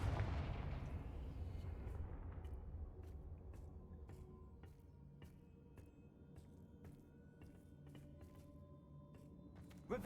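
A Confringo blasting spell explodes in Hogwarts Legacy during a fight with Ashwinders in Hogsmeade: one loud booming blast that rumbles and fades over several seconds, followed by scattered faint crackles and ticks, and a sharp hit at the very end.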